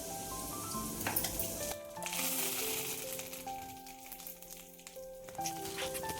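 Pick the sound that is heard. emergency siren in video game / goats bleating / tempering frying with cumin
tempering frying with cumin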